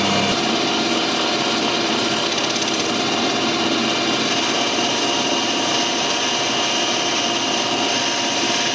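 A metal lathe turning at 1000 RPM with a carbide tool cutting aluminium and breaking chips, giving a loud, steady broadband machining roar with a constant high whine that runs unbroken throughout.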